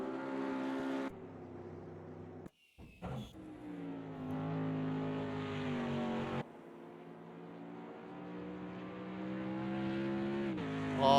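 A race car at the Bathurst 12 Hour endurance race roars alone in a sustained engine note, dropping briefly as it changes gear or lifts, then building again in pitch as it accelerates hard.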